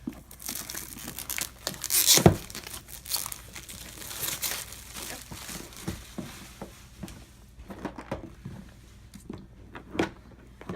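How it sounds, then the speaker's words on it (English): A linen-finish board game box for 1754 Conquest: The French and Indian War is worked open by hand, with close crinkling, rustling and cardboard scraping throughout and a loud tearing burst early on, followed by intermittent softer handling noises. "I have a hard time getting those boxes open"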